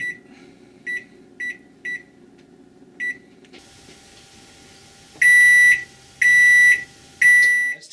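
Digital beeps from an oven timer at the end of baking bread in a clay baker: four short soft beeps early on, then three long, loud sustained tones spaced about a second apart.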